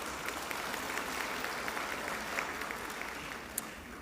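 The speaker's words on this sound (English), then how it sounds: "Let's give him another round of applause." Applause from a large graduation ceremony audience fills the hall as a dense, continuous wash of clapping, steady in level with a few sharper claps popping out near the end.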